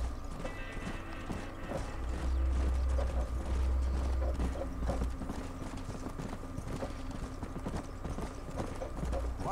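Rapid hooves clip-clop steadily over a low rumbling background, a horse galloping at a fast pace throughout in the video game Red Dead Redemption.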